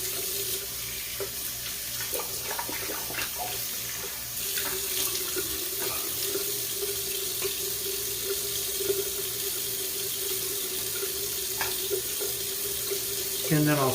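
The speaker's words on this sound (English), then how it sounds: "I'm going to go ahead and rinse my face with warm water" Warm tap water runs steadily into a bathroom sink for a facial rinse, a continuous close splashing stream with small shifts as hands move through it, and no talking over it.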